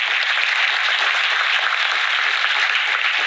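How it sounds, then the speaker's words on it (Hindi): Audience at a women's empowerment video-conference event applauds to welcome the chief guest, a Union Minister of Rural Development: steady, dense clapping from many hands throughout, loud and continuous with no talk. "आदरणीय श्री गिरिराज सिंह जी का स्वागत जोरदार तालियों के बीच किया जाएगा।"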